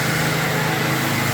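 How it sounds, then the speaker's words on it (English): A pressure washer runs steadily outside, a continuous whining motor drone heard at a distance with no breaks. "Wayne's out there pressure washing."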